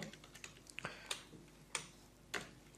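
Quiet keystrokes on a computer keyboard sound as irregular close clicks and taps, a few sharper key presses standing out, with no talking.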